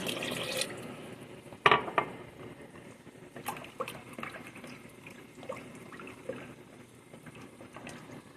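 One cup of water pours steadily into a pot, a soft trickling splash with a few clinks and knocks of kitchenware, fairly close and moderately quiet.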